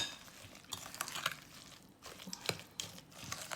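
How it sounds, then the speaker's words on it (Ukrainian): A spoon stirs kissel with apples and sugar in a pot, giving soft irregular scraping and clinking strokes, fairly faint and close, with no talk. "Так що Отак розмішуємо, розмішуємо."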